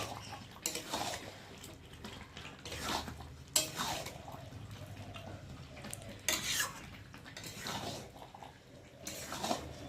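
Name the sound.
stirring meat with meat masala in a pan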